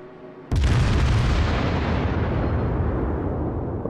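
Battleship salvo firing in a naval warfare video game, a single massive booming blast that erupts suddenly and rolls on as a long, loud rumbling roar that slowly fades.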